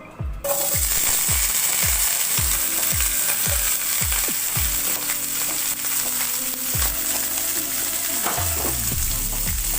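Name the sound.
frying onions in a pan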